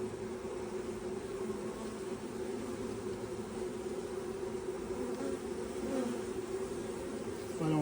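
A honey bee swarm clustered in Millbury, Massachusetts gives a continuous low droning buzz from many bees at once, steady and close, with no voices.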